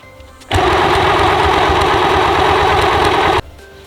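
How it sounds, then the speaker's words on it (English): Sewing machine stitching straight across white fabric for a large Christmas hat, a loud, steady motor whir and rapid needle rattle that starts abruptly and stops after about three seconds, with quiet room tone before and after. "so same thing for the white, where you're just going to sew right across here"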